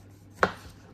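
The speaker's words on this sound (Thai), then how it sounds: "เราขอหั่นไส้กรอกนะคะ" A knife chops once through grilled sausage on a cutting board, giving a single sharp, close thud-click with a short tail and no voices.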